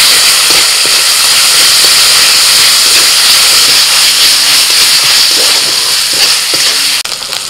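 Ginger-garlic paste with ground whole coriander, cumin and dried chilli sizzles steadily in hot oil at an outdoor picnic cook-up, a loud, dense, continuous hiss close to the pan that briefly dips near the end.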